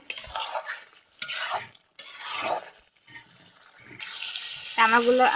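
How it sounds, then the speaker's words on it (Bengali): Stirring and light sizzling of broiler chicken meat with spices in a pan, with scraping strokes in bursts, close by; a brief clatter and tonal squeak near the end. "মাংসগুলো ভালোভাবে কষাচ্ছি।"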